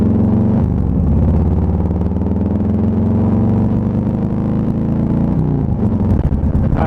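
A motorcycle pulling up to a gas station produces a loud, close, steady engine drone that shifts slightly as it slows near the end.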